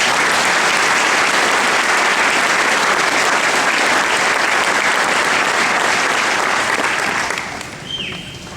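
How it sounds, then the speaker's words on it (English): A big audience claps steadily for students and scholarship supporters at a ceremony, a loud dense wash of hands that fades slightly near the end. "Please give our students and supporters a round of applause."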